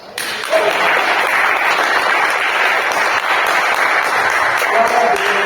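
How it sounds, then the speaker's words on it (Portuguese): A congregation at a theological teaching service bursts into a loud, continuous wash of applause that sustains evenly throughout. "A ele uma salva de palmas."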